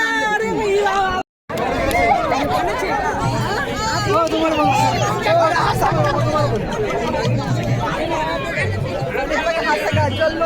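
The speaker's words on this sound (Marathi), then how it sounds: "हा सगळा जल्लोष" Party workers in a procession celebrate an election win in Sinnar municipal council with dense crowd chatter and shouting, loud and close throughout, a brief dropout near the start.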